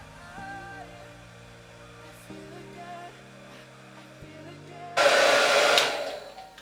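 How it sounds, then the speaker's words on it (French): A hair dryer switches on near the end and blows loudly with a steady rushing roar, drying wig glue, after a quieter stretch of low humming. "Moi, je vais prendre mon sèche-cheveux pour aller plus vite."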